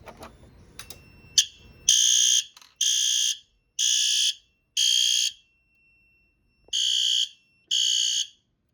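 A fire alarm blares in six loud, harsh buzzing bursts, evenly spaced with short gaps, after some brief handling noise.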